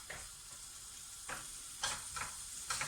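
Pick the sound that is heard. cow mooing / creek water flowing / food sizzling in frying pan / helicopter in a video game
food sizzling in frying pan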